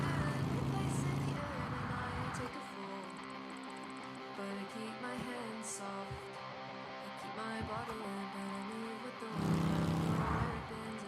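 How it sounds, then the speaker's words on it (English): Revving engine sounds given to witch brooms in the Crescent County video game trailer, with engine whine and tire-squeal-like effects over music while people talk. "Giving the brooms engine sounds is fucking hilarious."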